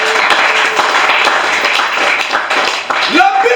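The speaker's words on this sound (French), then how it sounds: "Acclamons d'abord pour la parole du Seigneur." A church congregation breaks into steady, dense applause that fills the whole stretch, loud and close, with a voice rising briefly over the clapping near the end.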